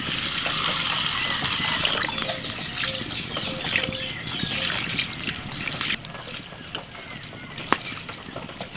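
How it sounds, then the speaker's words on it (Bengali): Arhar (toor) dal being rinsed in water, a steady close splashing and trickling with swishing of the lentils by hand, continuous throughout with a few sharper splashes and no talking. "দু তিনবার জল পাল্টে ডালটাকে ভালো করে ধুয়ে নেব"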